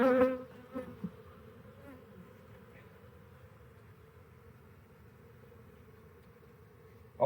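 Honey bees buzzing around hives in an apiary, a steady, close insect drone that continues on its own after a soft knock near the start, with no talking.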